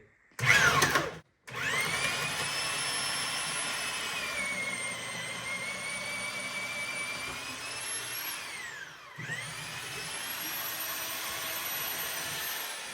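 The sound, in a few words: power drill boring through wood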